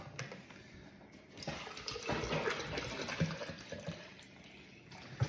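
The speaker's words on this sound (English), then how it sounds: "I fill it with water." Water runs from a tap into a protein shake bottle, a faint, continuous trickling and filling sound heard close by for several seconds without talk.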